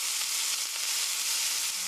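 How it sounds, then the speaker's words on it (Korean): Cabbage and onion stir-frying in a hot pan, giving a steady, close, loud sizzle that holds without pause throughout. "양배추, 양파 이렇게 해서 썰 프라이 5미닛 5분 정도 볶아주세요."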